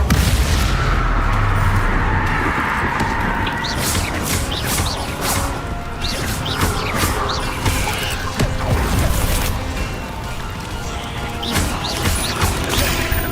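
Spell blasts in the video game Hogwarts Legacy: a dense run of booms, crashes and crackling impacts layered over a constant rumbling background, with sharp bursts landing repeatedly throughout.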